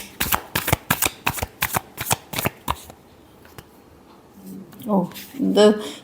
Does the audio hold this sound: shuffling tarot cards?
yes